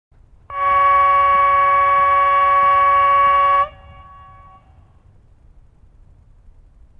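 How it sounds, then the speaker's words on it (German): A loud, steady multi-tone high signal horn from an H0-scale PIKO model of an ÖBB Rh 1041 electric locomotive blares for about three seconds, then cuts off, leaving a faint fading tone and quiet background hum. "Signalhorn hoch."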